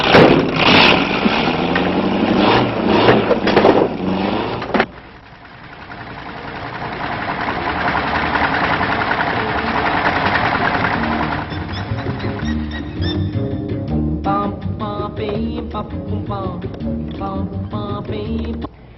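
A car engine turns over and settles into a steady idle, loud and close, with a brief lull after the start and some higher mechanical tones layered over the running engine near the end.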